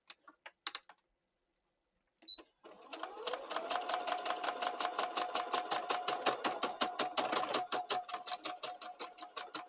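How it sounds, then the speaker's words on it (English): Sewing machine stitching fabric for a bunny bag: after a few brief clicks and a pause, the machine runs steadily in a fast, even rhythmic clatter, close and alone. "now I'm going to sew a little bit over to the right of this line to hide those particular stitches"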